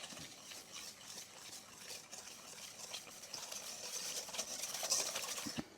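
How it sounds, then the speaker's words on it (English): A whisk stirs buckwheat apple ginger cake batter in a bowl, making faint, quick scraping and swishing strokes that run continuously and grow slightly busier toward the end. "I'm going to mix this up. Whisk it up."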